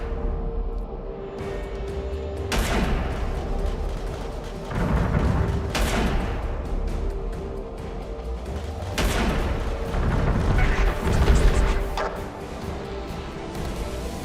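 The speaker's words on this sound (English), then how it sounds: "We are in range for railgun fire. Opening fire." Railgun fire from a spaceship battle in the video game Angels Fall First: heavy booming shots land every few seconds over a dense, continuous mechanical roar, loud and close.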